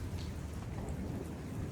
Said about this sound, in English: The thunder and lightning has not stopped from pretty much the second I filmed that last clip.